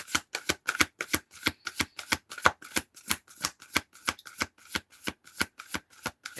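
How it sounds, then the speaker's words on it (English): Tarot cards are shuffled in a steady, rapid rhythm of crisp riffling snaps, close and clear with no talking over them. "Shuffle. Shuffle it is."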